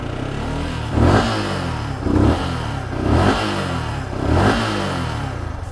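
A motorcycle engine idles with a rough, lumpy rumble and revs four times in evenly spaced bursts, each rising briefly then dropping back.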